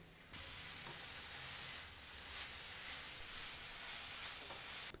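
Moringa leaves frying in a tempering over a medium flame give a steady, close hiss that runs unbroken after a brief quiet start, with no voices.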